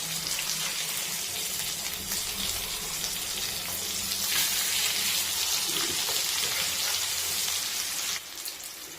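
Kerala-style fish frying in a pan, turned over to cook the other side: a steady, loud broadband sizzle of hot oil crackling continuously throughout, with no talk.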